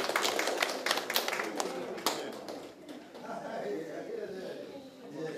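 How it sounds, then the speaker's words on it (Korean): Audience at a policy forum clapping to welcome a speaker, distinct claps thick at first and thinning out after a few seconds, with talk continuing underneath. "큰 박수로 환영해 주십시오"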